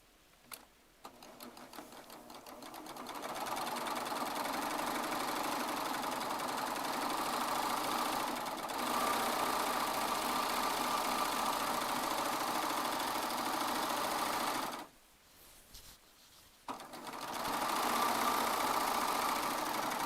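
A Baby Lock Triumph serger runs steadily, sewing a seam with a continuous whirring motor hum, then stops briefly before starting up again near the end.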